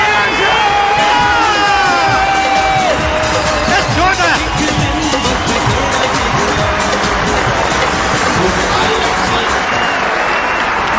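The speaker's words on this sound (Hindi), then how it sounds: "तो मैं चाहूंगा कि आप लोग इतनी जोरदार ताली लगातार बजाते रहे साथियों।" A large crowd at a political meeting applauds steadily, with clapping, cheers and whoops filling the whole stretch at close, loud level, and a voice calling out briefly over the din.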